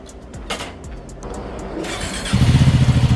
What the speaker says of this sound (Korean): 시동 한번 걸어보셔야죠